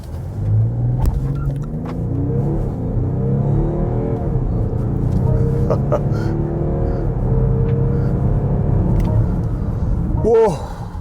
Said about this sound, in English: I have with me the BMW X7 with the 40D engine